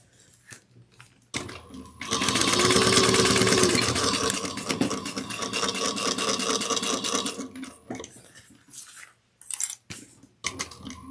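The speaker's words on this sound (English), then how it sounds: "we're going to top stitch the bottom of the seam 1/8 of an inch down each side" A sewing machine runs steadily for several seconds with a rapid mechanical chatter, topstitching a drawstring satchel seam, then slows into a few short bursts and clicks as the stitching stops and starts.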